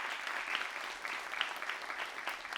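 Audience applause welcoming a professor at a K-dance book concert event, a steady wash of clapping from many hands, moderately distant and sustained throughout.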